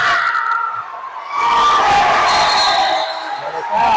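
Spectators at a high school boys varsity basketball game roar and cheer, a loud crowd noise that dips briefly, then surges back to a sustained, excited roar with shouts rising above it.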